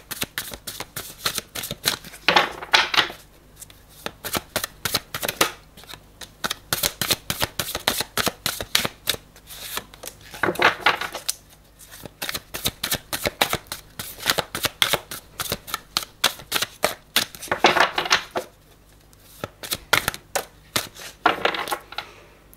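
Playing cards being shuffled for a guidance card reading, with quick riffling bursts that repeat close up and clearly, with short pauses between rounds and no voices.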